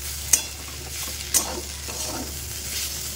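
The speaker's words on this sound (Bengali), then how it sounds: "আলু আর ভেন্ডি দিয়ে ভাজা" Potato and okra bhaji frying in a pan makes a steady, close sizzle, punctuated by two sharp utensil knocks early on and softer stirring scrapes, with no speech.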